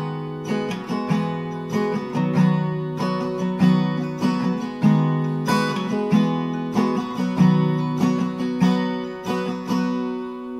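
Strummed acoustic guitar plays a rhythmic chord progression with steady, repeated strokes, close and full, with no voices.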